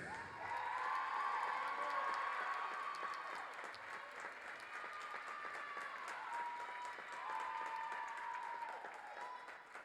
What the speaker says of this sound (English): Ladies and gentlemen, one more round of applause for number 23, Cameron Davis.